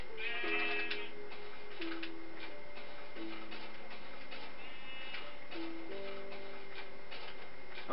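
Sheep bleats in Minecraft, several short wavering calls spread across the stretch alongside steady ticking game sounds, faint and without talk.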